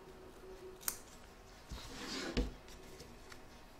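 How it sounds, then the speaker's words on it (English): Scissors snip away excess fabric from an in-the-hoop machine embroidery pouch, a few quiet cuts and rustles close by, with no talking. "you're now going to trim up the excess"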